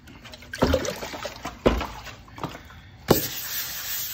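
Water splashed onto Boston Whaler gelcoat for wet sanding with 220-grit paper, from a bucket nearby: a few separate close splashes and pours about a second apart, with quieter trickling between them.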